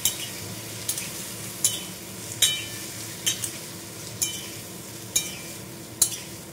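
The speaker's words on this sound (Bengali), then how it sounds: "তো এই আলুগুলো আমি এখন তেলে দিয়ে দেবো। দিয়ে এবার নাড়াবো।" Potatoes are stirred in a small amount of oil over a low flame, with about eight rhythmic spatula scrapes against the pan over a soft, steady sizzle and no talking.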